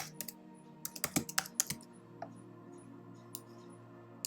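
Fingers type on a computer keyboard with a short burst of quick, close, crisp key clicks followed by a few sparse taps, quiet overall.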